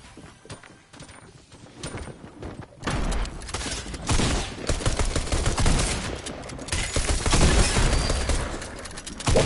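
Shotgun blasts and other gunfire in a Fortnite match come as rapid bursts of sharp cracks and thuds, loud and dense, over the game's background noise.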